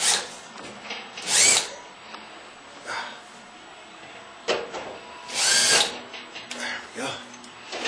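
A power drill backs a screw out of a woodstove in short whirring bursts, with quieter gaps of handling and faint rustling between them, heard up close.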